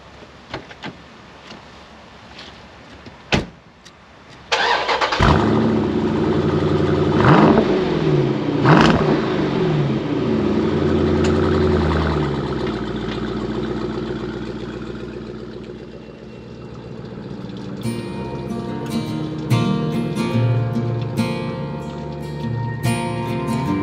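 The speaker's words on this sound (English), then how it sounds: "I'll let you listen to this SRT start up" An SRT car's engine cranks and fires with a loud bark, then settles into a deep, rumbling idle with a few revs, while clicks and small mechanical sounds come in near the end.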